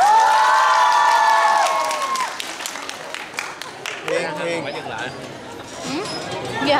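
A university student crowd cheers, shouts and claps to welcome students from the medicine and pharmacy faculty, a loud excited wave that tapers into scattered cheers and chatter, with amplified voices over it at first.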